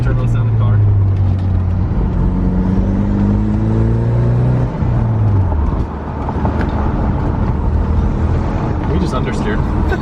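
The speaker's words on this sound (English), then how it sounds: "listen how cool this thing sounds. It's a nice little factory turbo sounding car." A factory-turbocharged Pontiac Solstice roadster accelerates while driving, its engine droning with rising and falling tones and a brief dip as the revs shift, heard from inside the car at steady volume; a person talks briefly.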